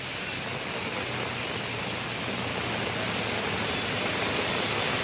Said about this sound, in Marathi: तर तुर्भेमध्ये देखील मुसळधार पाऊस आहे